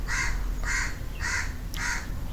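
Four loud, harsh crow caws in a steady rhythm, each about half a second long, close by, with low background hum underneath.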